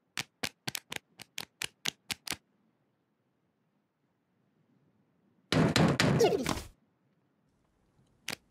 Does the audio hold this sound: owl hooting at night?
no